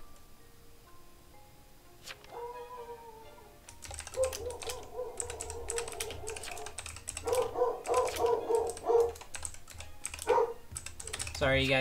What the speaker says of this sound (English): Sorry, you guys can hear my dog.